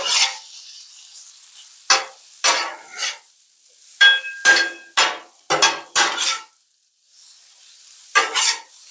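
Butter being mixed into potatoes on a Blackstone griddle: repeated scraping and clinking strokes of a metal utensil over a steady low sizzle, close and fairly loud.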